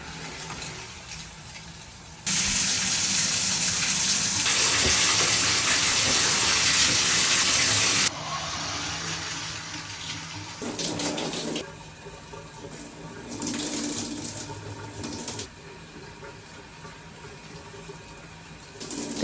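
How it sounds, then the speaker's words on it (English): Shower water running in a bathroom, a loud steady hiss of spray that starts abruptly, holds for several seconds, then drops to a softer, uneven splashing flow. "So we're about to take a shower"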